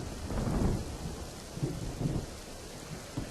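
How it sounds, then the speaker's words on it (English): Rain falling with rumbles of thunder, a dense steady hiss of rainfall under several low rolling booms, fairly quiet and without voices. "I really like the sound of rain."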